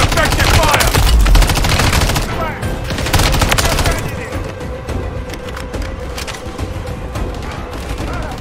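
Dense, loud gunfire in the Call of Duty Modern Warfare 3 Zombies game: rapid automatic bursts and heavy booms fill the whole span, with game voice callouts sounding over the shooting.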